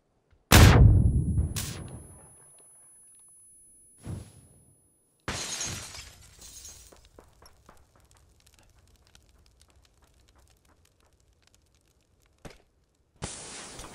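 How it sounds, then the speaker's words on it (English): Grenade explosions in the video game PUBG: a loud, sharp blast that rings out and decays, followed by smaller bangs and another heavy burst, with quiet gaps and faint crackle between. "All the grenades, dude."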